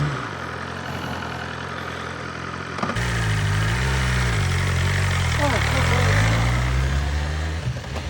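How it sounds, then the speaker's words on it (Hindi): BMW S1000 RR motorcycle engine on a first ride, a loud, close, steady rumble that rises and falls with the throttle, and someone talks over it. "first ride on the BMW S1000 RR."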